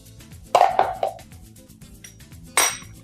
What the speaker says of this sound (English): Take the seeds out with our spoon.